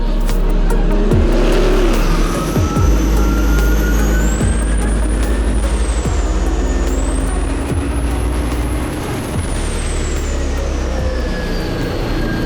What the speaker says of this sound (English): it's so exciting to see the car kind of slowly chug off the line as Cole's trying to build boost, but the second the turbos spin up